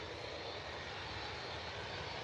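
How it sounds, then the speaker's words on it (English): A Boeing 787 Dreamliner at Manchester Airport sends out a faint, even engine rumble and hiss, continuous and fairly distant, with no voices. "Let's see where this Dreamliner's going"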